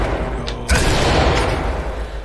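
A flashbang grenade goes off in the Ready or Not tactical shooter game, a single loud, sharp burst at about 0.7 seconds. A broad, ringing wash follows and lingers through the rest of the clip.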